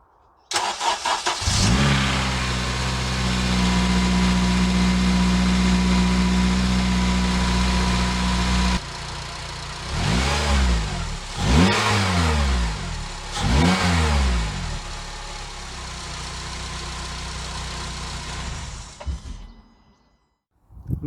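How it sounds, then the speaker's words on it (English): A Honda Civic Type R FN2 fitted with a homemade cold air intake cranks and fires up, settles into a steady loud idle, then is revved hard three times in quick succession before the engine is shut off. "Let's find out if it starts and whether it sounds alright."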